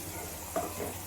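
Ground masala paste frying in a pan for chicken sambar, a close steady sizzle with a brief stirring scrape in the middle.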